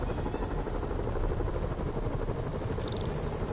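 Steady, dense rotor drone of a video game helicopter, loud and continuous with no voices.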